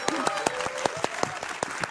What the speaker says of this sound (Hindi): तालियों के साथ आप दोनों का बहुत बहुत स्वागत है।